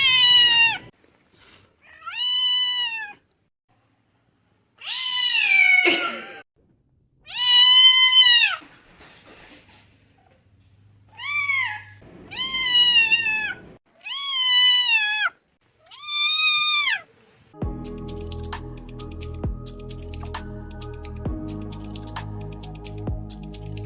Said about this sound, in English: This cat is completely deaf, so she's always surprised when her owner greets her.